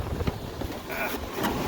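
Wind rushing over an RV roof while the air conditioner is being removed, a steady close-up buffeting rumble on the microphone with no clear pauses.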